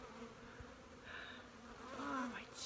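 Honey bees buzz close around a beekeeper on a warm day, a faint, continuous drone with individual bees whining past the microphone; no talking.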